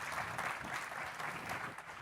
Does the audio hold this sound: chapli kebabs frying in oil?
no